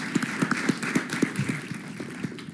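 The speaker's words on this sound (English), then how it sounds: "Give our candidates a round of applause." Scattered audience clapping at a DC delegate and mayoral debate at George Washington University, a thin, sparse round of distinct claps at moderate level with no voices over it.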